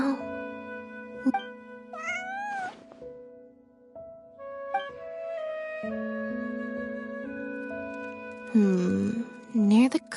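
A cat meows several times in the Genshin Impact video game, short high cries set among voiced character dialogue and soft game music.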